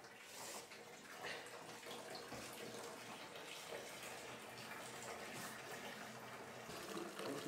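Fresh apple juice pours steadily from a pressurised juice press at a farm, a continuous splashing liquid stream, close and fairly loud throughout with no talking.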